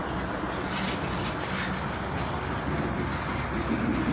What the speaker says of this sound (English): Here he comes again with those ECWs.